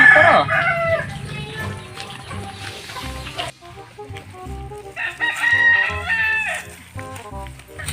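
A rooster crows loudly and close by, two long drawn-out calls separated by a pause, with clucking fowl and other farmyard noise around it.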